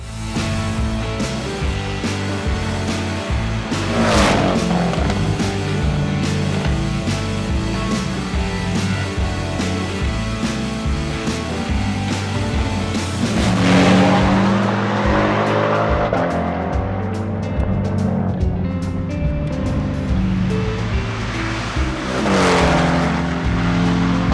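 A Porsche 992 GT3 RS engine roars continuously up close on a winding road near the Tail of the Dragon, revving up and down through gear changes with repeated surges of acceleration and no talking.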